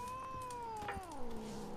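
A cat in The Witcher 3: Wild Hunt gives one long, drawn-out meow with a falling pitch, close and clear over a faint game backdrop, with no talking.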